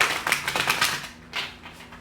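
Tarot cards being shuffled in quick bursts of riffling and snapping together, several short crisp flurries in a row, close and fairly loud.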